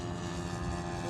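An RC model P-40 warbird plane flies overhead, its engine a steady, droning buzz that holds level throughout with no pauses, loud and continuous.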